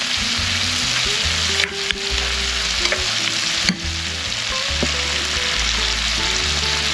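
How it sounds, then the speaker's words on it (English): Onions, garlic and tomatoes sauté in a pan for fish sarciado, giving a steady, close sizzle with scattered stirring clicks and scrapes throughout, alongside faint background music. "Now we saute the onions, garlic and tomatoes until it will be soft and tender."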